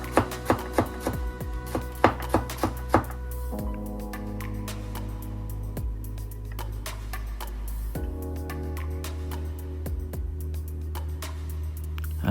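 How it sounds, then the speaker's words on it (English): Knife chopping celery stalks into tiny pieces on a cutting board, a quick run of crisp close taps at first, then sparser, softer cuts over a steady low hum. "Just chop it up into tiny, tiny little pieces."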